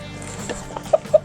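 Chickens and a rooster on a Finnish homestead, soft low clucking and rustling with a few short, sharper clucks near the end, close by and brief.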